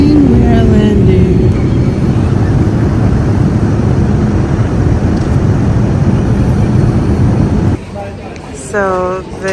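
A loud, steady jet-cabin roar fills an airliner coming in to land, holding constant before cutting away to quieter talk at the end.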